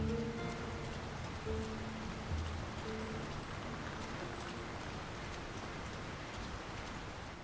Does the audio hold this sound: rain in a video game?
yes